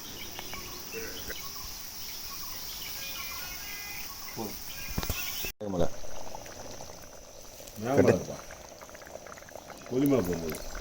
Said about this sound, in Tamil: அதுக்கப்புறம் அந்த மட்டன் சூப்பு வந்து அந்த தண்ணி எடுத்துகிட்டு திரும்ப அந்த மிளகாய் சில வச்சங்கள்லாம் போட்டு கொதிக்க வச்சோம்.